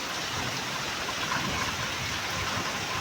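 Heavy monsoon rain pouring steadily over a village, a dense, even hiss with no let-up and no voices.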